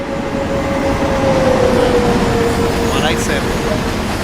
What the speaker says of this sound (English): We've got an ice train come through,